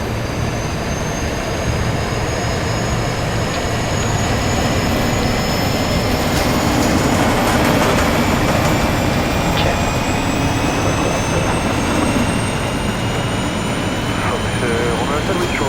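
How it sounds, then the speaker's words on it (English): A320 engine number one spooling up during start in Microsoft Flight Simulator, a steady loud turbine roar with rising high whine tones throughout, under cockpit and radio talk. "Démarrage du moteur numéro 1."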